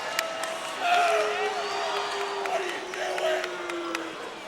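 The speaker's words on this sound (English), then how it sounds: "This is a very vocal crowd." A vocal, lively crowd cheers and shouts throughout a Greencastle boys high school basketball playoff game in the Mid Penn, with a steady roar and swells of noise under a commentator's voice.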